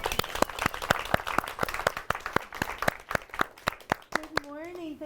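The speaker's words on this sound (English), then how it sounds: "How about a round of applause for Leanne?" A small audience at a media makers' grant-writing workshop claps for a presenter, with sparse, distinct individual claps in an uneven rhythm that thin out before a voice begins speaking near the end.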